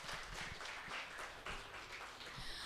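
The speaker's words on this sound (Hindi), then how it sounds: "इसी बात पर एक बार सभी कलाकारों के लिए भी जोरदार तालियां।" Faint, steady applause from an audience at an art festival in Pune, continuous clapping held at low volume throughout with no voices over it.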